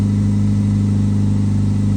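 A 2001 Chevy Prizm's 1ZZ-FE four-cylinder engine holds a steady idle at about 1500 RPM, giving a constant low hum with an even pulsing throb, close and continuous throughout.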